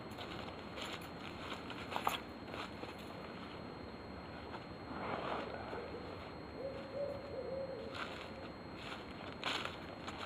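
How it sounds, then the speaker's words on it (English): An owl hoots from trees near a woodland survival camp, faint and distant against steady outdoor ambience, with a few soft calls spread across the stretch. "there's an owl in some of those trees over there"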